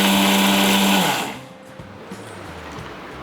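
A mixer grinder whirs loudly as it grinds dried tamarind into puliyodarai powder. The motor runs for about a second, then cuts off and winds down, leaving a quiet room with faint clatter.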